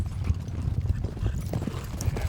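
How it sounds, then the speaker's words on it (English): Hooves of a herd of horses clip-clop steadily as wranglers drive them in on a morning American horse drive toward a corral, a dense, close rhythm of low thuds with no talk. "In the morning, wranglers drive in the horses, then work in the corral"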